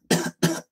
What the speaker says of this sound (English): Somebody coughing.